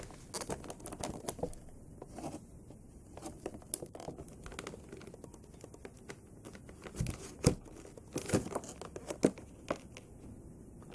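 Plastic ties being worked loose from a boxed Thundercats Lion-O action figure, giving close, irregular crinkling, patting and small snapping handling sounds with sharp clicks scattered throughout.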